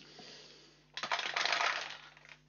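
Dice from the Wingspan board game tumble and clatter across a hard surface in one sharp, close burst that rattles for about a second and then stops.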